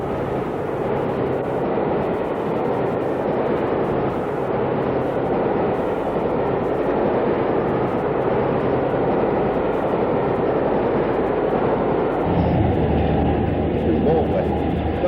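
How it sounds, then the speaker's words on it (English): Diesel locomotive D1026 hauls a westbound motorail train past near Dawlish, a loud sustained engine drone and wheel rumble that holds steady and then shifts lower near the end. "D1026, a westbound motor rail train."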